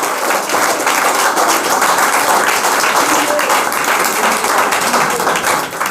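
Applause from Agniveer army trainees, a dense loud wash of clapping that holds steady throughout, with voices mixed in under the clapping.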